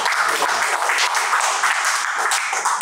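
Audience at an indoor gathering applauding loudly and continuously, a dense wash of clapping that stays even from start to finish with a faint voice underneath at the beginning.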